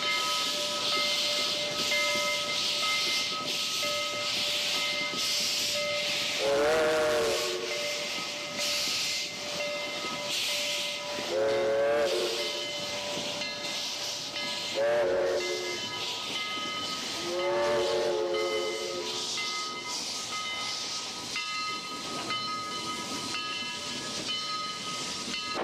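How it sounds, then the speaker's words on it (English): Steady hissing steam fills the scene while a steam whistle sounds several times in short, wavering blasts, with no voices. "So they lit his fire, made lots of steam, and Edward puffed away"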